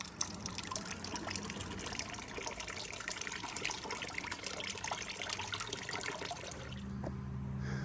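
Coolant trickles and drains steadily from the reservoir of a 2000–2005 Chevy Impala, a continuous faint splashing stream that ends abruptly near the close, with no talking.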